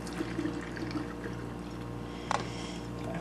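Boiling water poured from off to the side onto quick-cooking oatmeal for an oatmeal cake, a faint, soft trickling and splashing with a brief louder splash partway through, heard alone and fairly quiet.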